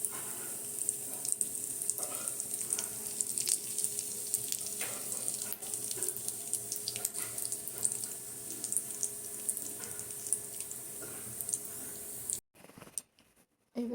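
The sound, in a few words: carom seeds and asafoetida sizzling in hot oil for pickle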